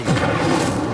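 An Incendio fire spell cast in Hogwarts Legacy, inside a cave, erupts as a loud, close, rumbling burst of flame with a booming low thud that roars steadily for about a second, with no talking over it.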